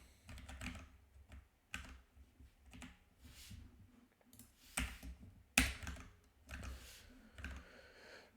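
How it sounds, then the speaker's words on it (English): Someone types code on a computer keyboard, keys clattering in uneven quick bursts with short pauses between runs, close and fairly quiet, with one sharper clack standing out. "I want to type everything from scratch."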